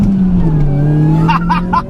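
A supercharged 216 BHP modified Ford Focus engine revs hard with a rising, throaty roar and a high supercharger whine, loud and close, with sharp bursts toward the end.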